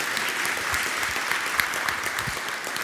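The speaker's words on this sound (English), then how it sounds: "So big round of applause for Emma." An audience claps steadily, a dense patter of applause from a crowd that continues without a break.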